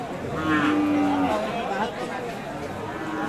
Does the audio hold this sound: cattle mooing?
yes